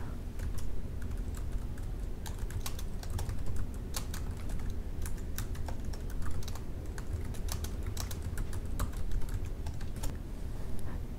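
Rapid, steady typing on a computer keyboard while filling out a web form, a dense run of close, light key clicks continuing throughout with a low background hum.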